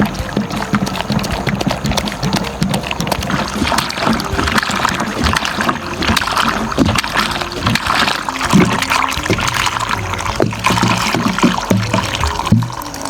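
A 20-liter sprayer holding pesticide powder and water is shaken hard, the liquid sloshing and splashing in repeated rhythmic surges inside the tank, close and fairly loud throughout with no voices.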